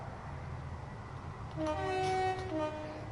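A London Underground Waterloo and City line train in the Train Sim World 5 game, with a steady low rumble of running stock joined midway by a loud two-tone horn blast lasting about a second, no voices.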